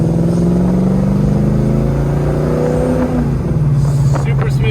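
A 1971 Chevrolet Chevelle convertible with the top down sits with its engine running, a loud steady rumble that rises slightly in pitch while someone talks over it.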